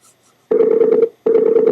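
Two bursts of an electronic telephone tone, a steady buzzy ring pattern about half a second long, then a short pause, then a second burst; close and loud, with no talking, as a dropped call is redialed.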